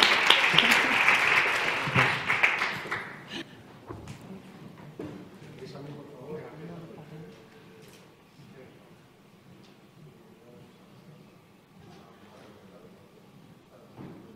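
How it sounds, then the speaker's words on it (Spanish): Loud audience applause at an inclusive employment and entrepreneurship forum in Madrid, strongest in the first three seconds and then thinning into scattered claps and murmuring voices. "¡Y un fuerte aplauso!"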